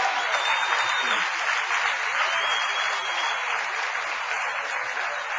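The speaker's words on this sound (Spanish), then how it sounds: "Denle un aplauso al Rey bendito." A church congregation applauds together, a dense, steady wash of clapping that fills the room at a constant level without any break.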